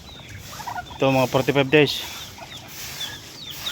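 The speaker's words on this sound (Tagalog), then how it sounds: "Yan, mga pato yan." Farm ducks, about 45 days old, kept in the provinces, give a short burst of loud nasal quacking calls near the microphone, with someone talking briefly and outdoor background noise.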